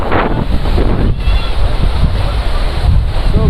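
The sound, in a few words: water surging in at a fishing location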